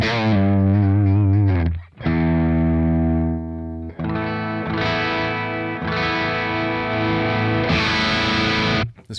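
A distorted electric guitar through a Soldano SLO amp capture plays loud sustained chords with heavy gain and some chorus-like shimmer, each chord ringing briefly before the next is struck.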